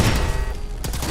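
Turrets fire in Fallout 4, a dense, loud burst of rapid gunfire packed into about a second, with a brief break before another rattle, up close and with no voices.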